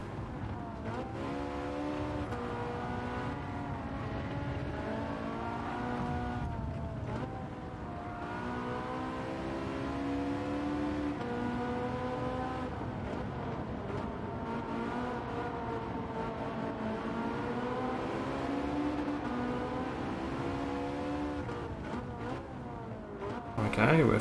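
A Ferrari 458 Italia race car in Gran Turismo 7 drones steadily, its engine note rising and falling through gear changes across a long stretch of racing, with a player talking over it.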